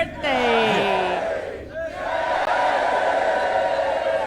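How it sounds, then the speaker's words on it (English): A crowd of fantasy dwarves roars and cheers in a tabletop roleplay sound effect, with a loud swell of many voices that dips briefly and then rises again. "You see dwarves come down, and they're all cheering, and they're all like, yeah, like they did it."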